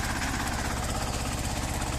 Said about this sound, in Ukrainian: нова бурінка за плугом, третя понижена передача, трактор їде сам